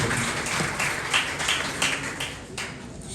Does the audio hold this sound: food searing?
no